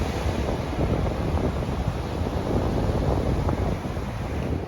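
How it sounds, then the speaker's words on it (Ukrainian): Steady roar of North Sea surf and gusting wind, loud and continuous throughout, with no voices. "чуєте цей звук? Ось воно північне море."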